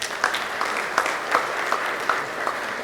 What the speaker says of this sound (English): We can have a round of applause for all of us.